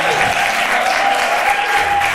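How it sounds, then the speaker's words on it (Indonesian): Wedding guests applaud steadily and densely at a church wedding blessing, a full, close round of clapping that carries through the whole stretch with a faint steady tone beneath. "Sekali lagi dong tepuk tangan dong."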